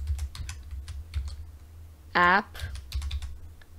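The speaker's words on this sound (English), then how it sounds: "So once you have typed in percent local app data percent" A computer keyboard types a Run command on a Windows PC, a steady patter of key clicks under a person's talking, broken by one short tonal beep.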